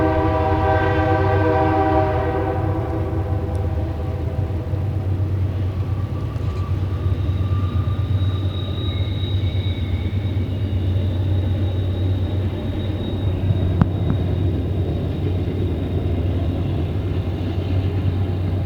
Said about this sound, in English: so I'll just wait for the train to pass.